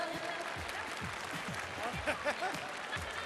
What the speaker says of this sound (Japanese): 続いて角中選手が良かったと思う方拍手お願いします。